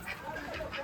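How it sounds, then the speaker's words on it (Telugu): Ducks quacking on a farm, a busy continuous chorus of calls close by with some faint talk mixed in. "ఈ బాతులు కాళ్ళ కిందకి వచ్చినాయి."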